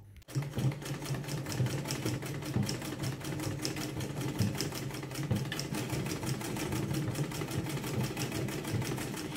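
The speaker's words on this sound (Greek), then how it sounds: "πάω στη ραπτομηχανή. Ακούστε λίγο τον ήχο της." A sewing machine runs steadily while hemming curtains, its needle hammering in a fast, even mechanical rhythm, close and continuous after a brief start.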